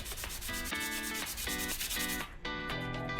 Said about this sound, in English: I'm just gonna get that and rub that back end on some 240. Sandpaper, that is.